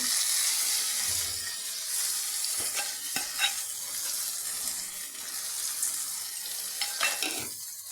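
Spices and new potatoes cooking down with a splash of water in a pan, a steady close sizzle with occasional stirring scrapes and clinks, no voices.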